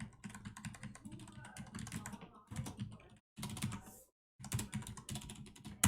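Rapid clicking of computer keyboard keys while writing code in Julia for numerical integration, close and steady in bursts, with two brief pauses of silence.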